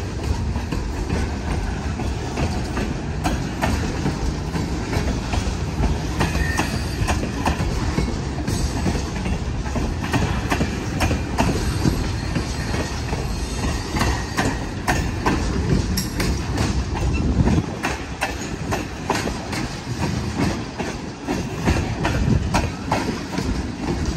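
A Richmond Pacific freight train hauling scrap rumbles past the Richmond Amtrak station steadily with continuous clattering of wheels on rails, loud and close, with occasional metallic squeals over the drone.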